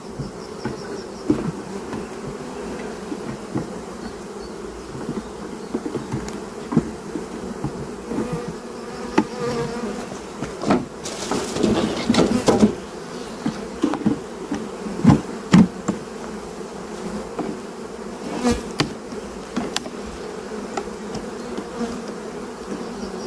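Honeybees swarm around an opened hive as a brood frame is lifted out, a dense, continuous buzzing hum close up with occasional knocks and handling bumps from the frame work.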